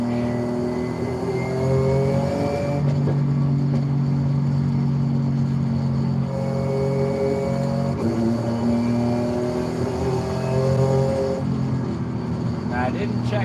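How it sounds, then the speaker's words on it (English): A race car engine in the Forza Horizon video game revs steadily with strong, sustained tonal harmonics that rise and fall across several throttle sweeps, loud and continuous throughout. "Whoa, this thing sounds extremely race car."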